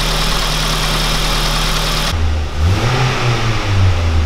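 A car engine with a long-standing high-idle fault, freshly repaired in a workshop, is started and revved, giving a loud steady roar that cuts off, then a deeper running note with quick rises and falls in pitch, and no talking.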